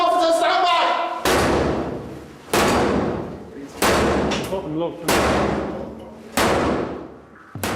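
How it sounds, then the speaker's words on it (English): A police heavy enforcer battering ram thumps a door repeatedly: five loud, hard slams spaced about a second apart, each ringing briefly before the next blow, with a voice speaking between the impacts. "A normal door with average security will break after 1 or 2 thumps from this heavy enforcer."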